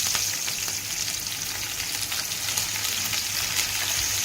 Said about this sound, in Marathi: आता तर मी मिरच्या पण टाकून घेत आहे